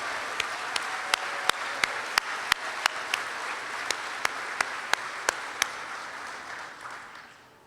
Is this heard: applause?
yes